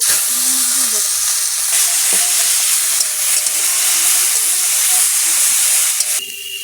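Prawns frying in hot oil in a pan give a steady, close sizzle and hiss that runs unbroken throughout, with faint clinks of a utensil over it.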